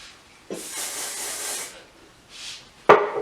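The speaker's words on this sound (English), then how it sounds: "Then spray it so it stays." Brief hissing bursts of hairspray applied to teased hair for a retro style: a long spray, a shorter one, then a sharp clack, close and fairly quiet.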